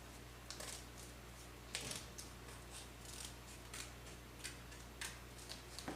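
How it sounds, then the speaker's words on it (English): Scissors snipping through folded paper while making a 3D paper snowflake, a series of soft crisp cuts at irregular intervals over faint steady background hiss. "we're going to cut another line"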